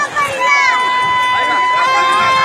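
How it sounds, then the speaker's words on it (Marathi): A crowd of devotees gathers at Dadar Chowpatty beach in Mumbai for the Ganesh immersion, a steady dense murmur of many voices with a reporter speaking over it. "भाविकांची गर्दी दादर चौपाटीवरती उसळली"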